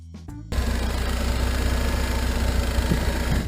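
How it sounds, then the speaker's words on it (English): A Pontiac Iron Duke four-cylinder engine starts up after a brief lead-in, then runs steadily with a loud, rough, vibrating drone. "Number 4. Pontiac Iron Duke engine."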